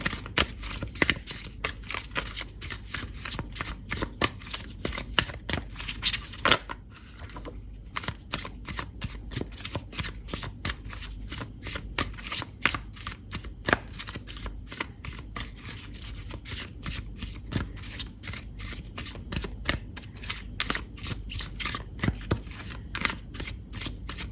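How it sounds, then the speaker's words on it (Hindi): A deck of tarot cards is shuffled and drawn close up, producing a long, dense train of rapid crisp card flicks and riffles that run almost without pause throughout. "सबसे पहले मैं यहाँ से कुछ कार्ड आपके बारे में निकालती हूँ। 3 कार्ड हम यहाँ से लेंगे।"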